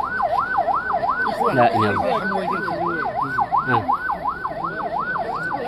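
An ambulance carrying a body arrives at a funeral in Sidi Slimane province, Morocco, its siren wailing loud and steady in a smooth rising-and-falling cycle while voices chant and speak beneath it.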